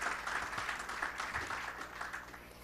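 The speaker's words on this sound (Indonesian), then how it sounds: "berikan tepuk tangan bagi Tuhan" Worshippers applaud together in a church service, a close and steady patter of many hands, with a faint low hum underneath.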